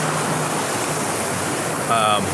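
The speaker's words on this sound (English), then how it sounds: "One of the things I love most about any mountain is the streams. The sound of the water." Mountain stream water flowing steadily on a hike to Avalanche Lake in the Adirondack Mountains, a continuous broadband rush close by, with a brief faint tonal sound near the end.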